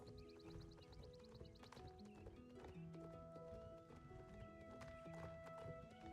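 In the Star Stable video game, a horse's hooves clip-clop steadily while it neighs, all over layered game music with sustained tones and a faint repeating chime.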